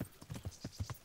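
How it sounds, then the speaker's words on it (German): Horse hooves clip-clopping at a steady walking rhythm in the medieval video game Kingdom Come Deliverance, about six distinct, close, moderately loud thuds in one second with no voices over them. "Immerhin habe ich noch mein Pferd."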